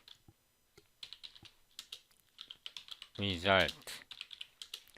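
Rapid computer keyboard typing while entering C++ code, irregular clicks that come and go close to the mic, with someone briefly speaking partway through.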